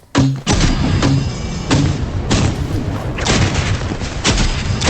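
Bomb explosions boom in a video game during a tournament match, a rapid run of loud, close blasts and thuds following one another with no pause.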